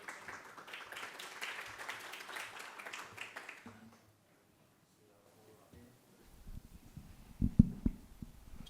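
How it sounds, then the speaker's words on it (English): Applause from a conference audience welcoming speakers at an education symposium: several seconds of moderate, fairly distant clapping that stops abruptly, followed by a quiet pause and then low thumps and handling noise. "please give them a warm applause to get started."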